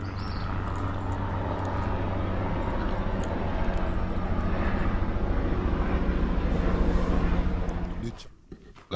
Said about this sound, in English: there was a JD helicopter hovering very low